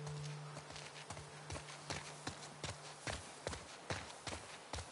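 Horse hooves in the game The Last of Us Part II: a steady, even clip-clop of hoofbeats, close and moderately loud, with a low hum underneath.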